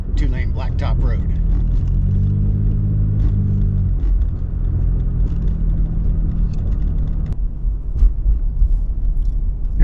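A car cruising along a two-lane blacktop road toward Horseshoe Dam in the Arizona desert, with a loud, steady engine and tyre rumble close inside the cabin, constant throughout with a brief rising engine drone midway.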